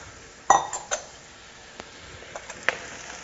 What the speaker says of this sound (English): I'm going to stir this up with that bacon grease.